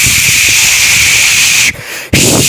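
A voice imitates a pressure cooker whistle, a loud, steady, breathy hiss-whistle held for nearly two seconds, cut by a brief gap, then resumed.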